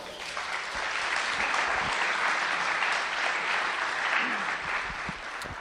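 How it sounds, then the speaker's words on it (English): An audience at a startup weekend event in Lithuania claps loudly for the judges, a thick, sustained roomful of applause with faint crowd murmur beneath. "Come on, give him a round of applause."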